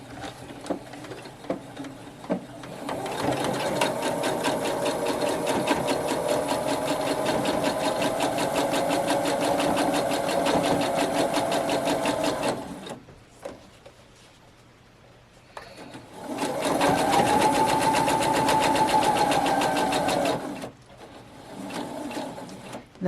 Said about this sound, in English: I'm going to go ahead and sew together some more fabric to make the rest of the chain